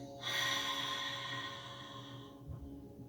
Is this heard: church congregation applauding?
no